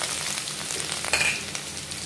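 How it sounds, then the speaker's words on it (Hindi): Chopped ginger and garlic frying in hot oil in a wok, giving a steady close hiss and sizzle throughout, with a brief bright metallic scrape partway through and no voices. "यहाँ हमारा तेल गरम हो चुका है और सबसे पहले मैं इसमें डालूँगी ये चॉप्ड जिंजर गार्लिक"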